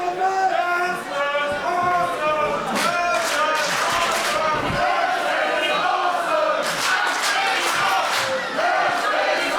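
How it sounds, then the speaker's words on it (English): A wrestling crowd in Berlin cheers and roars steadily throughout a Lucha Underground match, a dense wash of voices at constant loudness with a commentator's voice talking over it. "the crowd here in Berlin expressing their appreciation for what has been an action-packed set of first-round matches"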